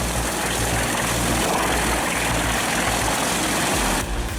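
A Pezzolato PTH 1200/820M drum wood chipper running on a 540 horsepower Scania engine feeds and chews through logs with a loud, continuous, low engine roar and dense grinding rumble that eases slightly at the end.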